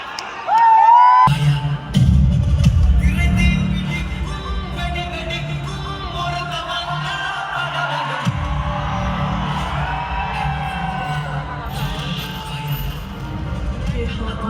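Large crowd outside a packed meetup for Khan Sir in Patna, a loud continuous roar of cheering and shouting voices that swells at the start and stays dense and close throughout.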